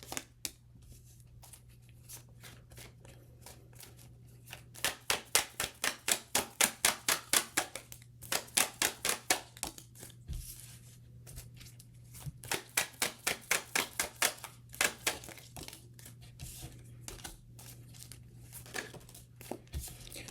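Repeated bursts of rapid riffling as playing cards are shuffled, several rounds of quick flutter separated by brief pauses, close and clear.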